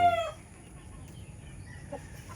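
Indio Gigante chickens, including a five-month-old stag, give a short, faint cluck or call at the start, then soft farmyard murmur continues quietly in the pen.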